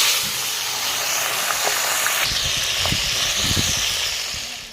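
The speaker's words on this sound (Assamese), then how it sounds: "প্ৰথমে এতিয়া মই মাছকণ ফ্ৰাই কৰি ল'ম" Fish shallow-frying in hot oil in a wok, a steady loud sizzle and hiss throughout with faint clinks from the cookware.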